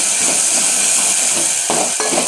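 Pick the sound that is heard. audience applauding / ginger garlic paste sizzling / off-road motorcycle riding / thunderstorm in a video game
ginger garlic paste sizzling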